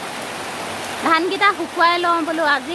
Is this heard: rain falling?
yes